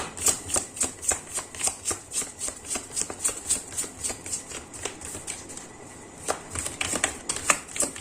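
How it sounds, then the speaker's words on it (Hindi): Tarot cards being shuffled by hand, a rapid rhythmic run of close riffling bursts with a brief pause before the shuffling resumes. "तो आप थोड़ा सा धैर्य बना के रखें जब तक मैं कार्ड्स निकाल लेता हूँ"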